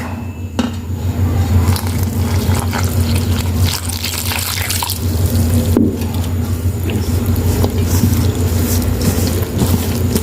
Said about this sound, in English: I'll be adding my milk.